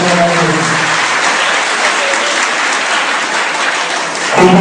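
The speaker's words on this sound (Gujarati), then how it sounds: "તાળીના ગણગણાટ સાથે" A hall audience applauds at an annual prize distribution for women given cash awards, a loud, dense, sustained clapping that swells slightly at the end.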